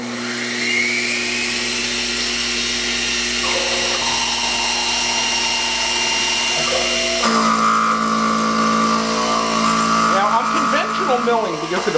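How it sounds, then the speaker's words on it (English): A milling machine cuts a steam gland workpiece for a Stuart Beam model engine, giving a steady whining hum with sustained tonal lines that shift in pitch partway through, with speech in the background. "Milling because of the backlash on this piece"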